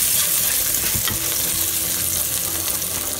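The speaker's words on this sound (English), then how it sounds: "Now dropping in green chili, and we'll toss it for 2 minutes" Green chili and onions fry in a pan, a loud, dense sizzle close up, with soft scraping from tossing and stirring and no voices.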